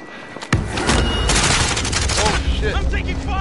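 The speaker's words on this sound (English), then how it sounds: "I'm taking fire!" Heavy gunfire erupts in a PS4 shooter game, a sudden loud burst followed by sustained rapid fire and booms, with a player's voice speaking underneath.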